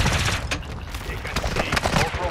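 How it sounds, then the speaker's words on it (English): Rapid gunfire in the DMZ shooter video game, a dense burst of sharp cracks and rattling shots layered under a radio-style voice, loud and close throughout. "You are taking effective fire"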